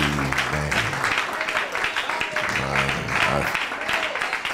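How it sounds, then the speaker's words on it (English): A church congregation claps for the worship band musicians, a dense, steady patter of many hands filling the room, with low musical tones and murmured voices running underneath. "Let's give the Lord a hand clap for our musicians."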